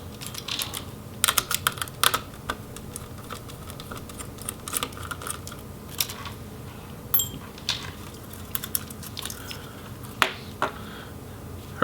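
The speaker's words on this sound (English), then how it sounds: "we can go ahead and remove or loosen these heatsink screws, and these come out." Small screwdriver work loosening the retained heatsink screws inside an Asus Zenbook UX580G laptop, heard as soft irregular clicks and ticks at close range with a quiet background.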